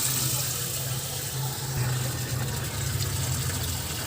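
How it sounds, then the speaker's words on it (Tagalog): Water runs steadily into a cooking pot, a continuous splashing flow, with no voices. "Okay, lalagyan natin ng tubig."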